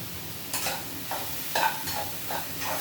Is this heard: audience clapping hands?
no